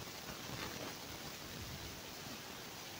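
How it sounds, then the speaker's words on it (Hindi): Water pours steadily into a pot of mutton tahari on a high flame, a broad even hiss that continues without pause for the whole stretch. "और अब हम इसमें ऐड करेंगे पानी।"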